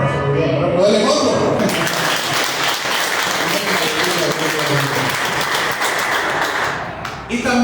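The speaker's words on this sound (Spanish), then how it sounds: "Un caluroso aplauso de Dios." Warm round of applause from a church congregation at a Sunday service; after a moment of voices, dense clapping rises and holds steadily, then a voice returns as it ends.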